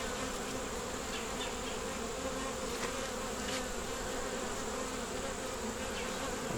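Honeybees hum steadily in a DD nuc hive, a dense continuous buzz at moderate level with no voices over it.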